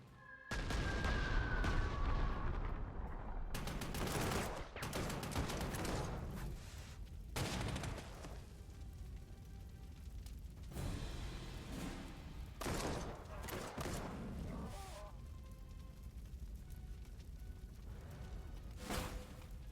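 Bombing and artillery fire from the Panzer Corps 2 war game: a string of loud booms and gunfire bursts, some close together and some spaced out, with rumbling between them. The blasts go on through the whole stretch.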